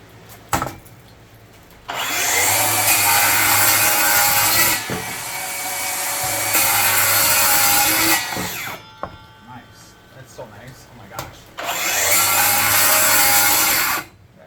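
Flex 24V rear handle circular saw cutting wood, loud close bursts of blade whine in three separate cuts of a few seconds each, with quieter gaps where the motor spins down and faint handling noises can be heard.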